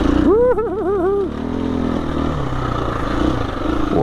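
A KTM 350 EXC F dirt bike engine on a trail, heard up close from onboard: a loud, wavering rev climbs and dips, then settles into a steady low-RPM chug as the bike tractors along.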